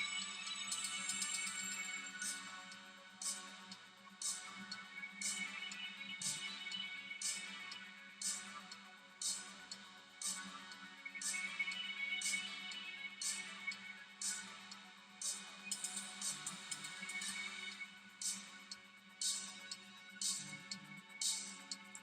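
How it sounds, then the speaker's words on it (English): Repeated short bright notification chimes from incoming text messages on a phone, recurring roughly every second over a steady background hum during an art stream. "People texting my phone as if they don't know I'm streaming."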